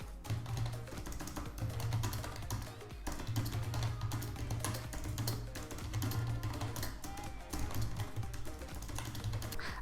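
Several keys pressed at once on a Logitech G105 gaming keyboard, a dense stream of tapping keystrokes in repeated bursts, close and steady over a low hum.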